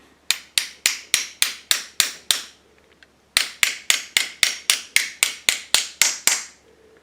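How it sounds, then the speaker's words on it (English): A hammer gently taps a socket to seat a door hinge bracket on a 1968 Mustang, about eight sharp metallic taps, a short pause, then around twelve more in a quick, even rhythm, close and loud. "just take the hammer and gently tap on the socket."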